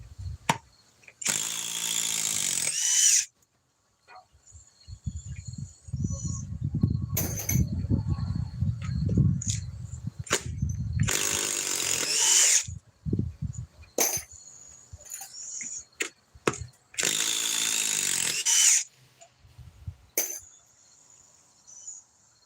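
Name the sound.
DeWalt power drill removing timber screws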